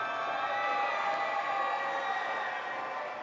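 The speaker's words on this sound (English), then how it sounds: "Sounds like the Red Alliance over here is cheering" Crowd at a FIRST robotics district event in Columbus cheering and whooping steadily, a dense, sustained roar of many voices with shrill children's shouts mixed in, loud and continuous throughout.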